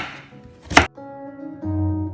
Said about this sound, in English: Here is the root of celery. We just cut them to thin slices.